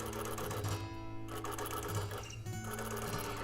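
A sewing machine runs a continuous rapid stitching hum while free motion quilting a quilt, with slight surges and dips in speed, close and alone.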